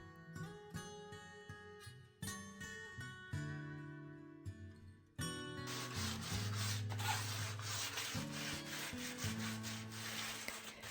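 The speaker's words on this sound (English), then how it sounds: "I sanded it back very lightly with a high grit to further smooth off any areas" Light sanding of a freshly skimmed, fully dried plaster wall with high-grit sandpaper: steady rubbing strokes, stronger in the second half, mixed under background music.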